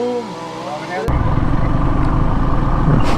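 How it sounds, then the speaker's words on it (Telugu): A motorcycle fitted with a top box, rumbling at close range; a person speaks at the start, then a steady, loud engine drone with a low, throbbing texture carries on to the end. "ఏంది గుడ గుడ గుడ గుడ గుడ అంటుంది నీ బండి."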